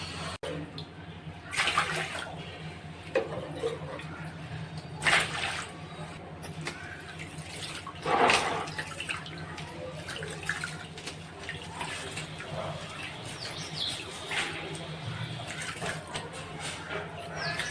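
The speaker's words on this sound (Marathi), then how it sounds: "रेशनचे तांदूळ थोडे जास्तच घाण असतात म्हणून खूप छान चोळून धुवावं लागते" Ration rice is rubbed by hand and washed in a bowl of water, giving a continuous wet swishing and gritty churning with a few louder sloshes and splashes. A voice speaks at times over the washing.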